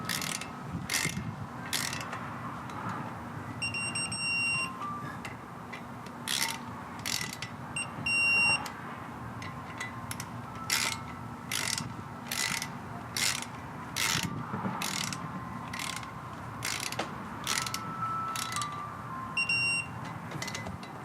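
A ratcheting torque wrench turns bolts on a ZF transmission-to-LS engine adapter, tightening them to 15 foot-pounds in a crisscross pattern. Short click bursts repeat in a steady rhythm, with brief higher beeps and a low background hum.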